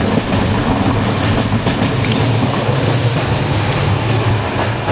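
Bulgarian passenger train rolling along the rails on a hot summer run, heard from inside a carriage with an open window: a loud, steady rumble with continuous wheel clatter and no voices.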